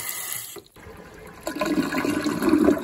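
A toilet flushing in a house just after its well was repaired: a short pause, then rushing water swells and grows louder and more turbulent toward the end, with no voices.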